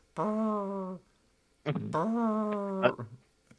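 A human voice imitates a cat's snore with two drawn-out, nasal, buzzing tones separated by a pause, the second ending in a few short sputters.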